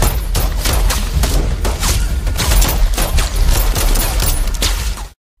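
Rapid bursts of pistol gunfire crack repeatedly in a film scene in a forest, over a rumbling action soundtrack, loud and close, ending abruptly.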